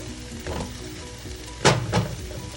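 Ground beef hitting a hot pan for a meat pie filling, giving a couple of short sizzling bursts with light stirring scrapes, moderately close and brief.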